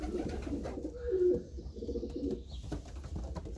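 Pigeons cooing close by in a loft, soft throaty coos rising and falling over a few seconds amid faint rustling, and no voices.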